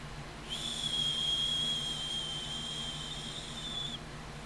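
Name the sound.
Aztec death whistle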